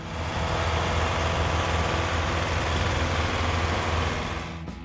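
A John Deere 3020 farm tractor from the New Generation series idles with a steady, low diesel rumble and vibration, loud and constant throughout, with no voices.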